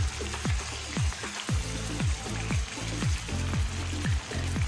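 Chapli beef kebabs fry in a hot pan over a medium flame, giving a steady broadband sizzle with irregular bubbling pops and crackles throughout, close and continuous with no talking.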